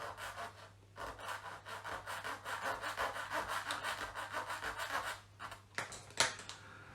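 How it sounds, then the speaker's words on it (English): Small 3D printed plastic parts for a SpaceX Falcon 9 Dragon rocket model are filed by hand in quick, rhythmic rasping strokes, close and fairly quiet, pausing briefly near the end before a few final scrapes. "And then they need a little bit of filing."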